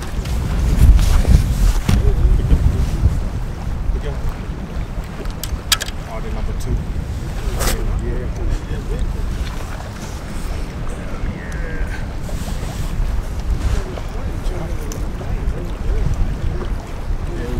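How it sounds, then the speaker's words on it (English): Strong wind and rough waves batter a small fishing boat out coho salmon fishing, a constant loud roar of gusts and water slapping the hull with occasional sharp knocks, no voices. "The wind's so rough."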